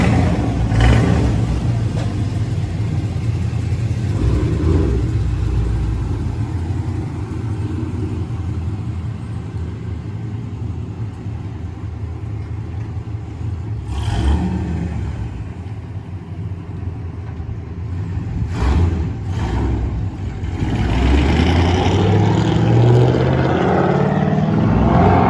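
A 2010 Camaro SS with an LS3 V8 and long tube headers idles with a loud, steady low rumble, swelling into a few short revs partway through and a rising rev near the end.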